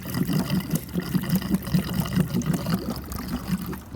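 Liquid pours steadily from a 10 litre drum into a 2017 Peugeot Traveller Allure van, a continuous close gurgling trickle with a pulsing glug rhythm throughout.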